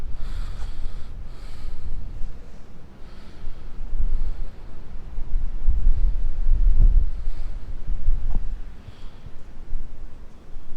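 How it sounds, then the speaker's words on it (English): Low, rumbling wind buffets a microphone fitted with a furry windscreen in uneven gusts throughout on a street in Manly, Sydney, rising and falling with no voices. "Super windy, so hopefully my dead cat cuts out all this wind noise"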